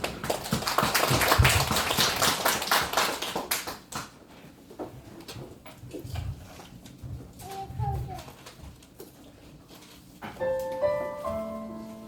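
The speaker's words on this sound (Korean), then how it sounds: "박수로 합니다" A church congregation claps along at a worship service for parents, a quick steady rhythm of many hands over the first few seconds amid voices, then fading as singing and music take over.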